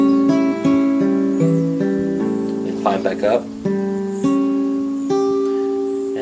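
A guitar plays the rolling arpeggio pattern of a song, with individual picked notes ringing and overlapping in a steady, flowing sequence while a voice speaks briefly over it partway through.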